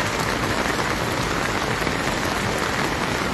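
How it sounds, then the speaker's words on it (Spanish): Heavy rain pours down at a bridge crossing during a roadblock protest in El Zarco, a dense and constant hiss of drops striking surfaces, loud and unbroken, with no voices. "está lloviendo recio."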